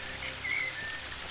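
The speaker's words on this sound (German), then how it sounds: "Reines Wasser, das durch die Luft stürzt und einen feinen, erfrischenden Wassernebel im Garten verteilt." Fine water mist sprays through the air in a garden scene from the video game Book of Unwritten Tales 2, a soft steady hiss of droplets with a slightly brighter swell midway, heard alone.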